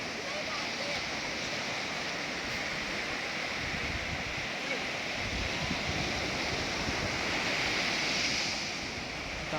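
Sea waves at Kashid beach roll in as a steady, continuous broadband wash of surf with wind noise on the microphone, fairly loud and unbroken throughout.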